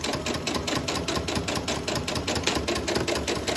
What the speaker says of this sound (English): Now I'm going to stitch at stitch length 3,